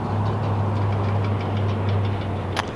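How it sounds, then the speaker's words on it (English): Air suspension on a 2021 Mercedes-Benz GLS450 lowering the SUV, a steady low mechanical hum and drone close by with faint ticking, ending in a short hiss of released air. "since this has an air suspension, you can use this button right here to lift the vehicle up and down"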